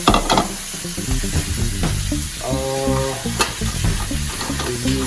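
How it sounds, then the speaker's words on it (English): Beef hitting hot olive oil in a pan for lo mein gives a steady close sizzle with stirring and clinking utensil scrapes throughout, no voices. "now you want to add the meat."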